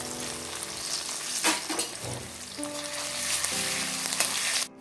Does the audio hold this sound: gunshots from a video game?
no